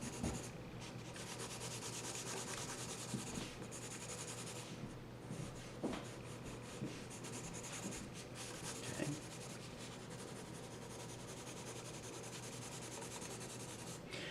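Charcoal pencil shading a mandarin orange drawing, pressed sideways against paper, giving a soft continuous scratchy rubbing with brief pauses between strokes, close and quiet.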